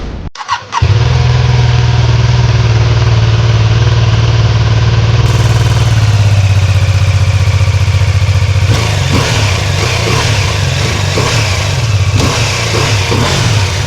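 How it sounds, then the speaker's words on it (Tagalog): A BMW F450 GS middleweight adventure motorcycle engine fires up after a brief crank, then settles into a steady, loud idle close by, with a couple of light throttle blips near the end; no talking. "i-test ride natin itong BMW F450 GS."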